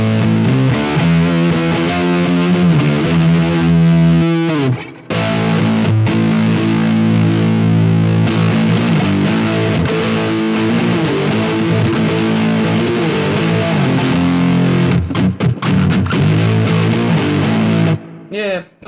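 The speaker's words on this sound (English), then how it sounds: "Let's see how this sounds without the exotic." An electric guitar played through a fuzz pedal on a Quad Cortex modeler with the exotic setting off, giving a thick distorted tone with sustained chords and riffs, loud and close with a brief pause near five seconds.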